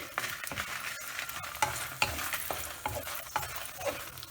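Dried red chillies fry and get stirred in a pan for coriander thokku, with soft continuous sizzle broken by scraping spatula strokes and occasional clinks, close and fairly quiet.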